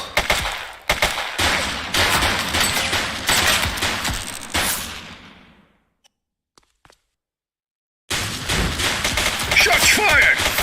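Dense gunfire from The Precinct police game during a suspect chase, a loud sustained fusillade for about five seconds, then near silence, then another heavy burst of shots.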